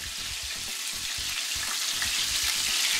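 Garlic frying in oil in a pan, a steady dense hiss of bubbling fat that holds constant and fairly loud with soft rhythmic stirring underneath, no voices.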